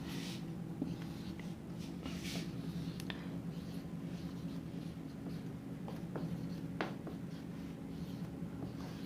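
Marker or chalk strokes on a board during a class-12 applied mathematics matrix lesson, a steady scratchy writing sound with a few brief squeaky strokes, close and continuous over a constant low hum, no talk.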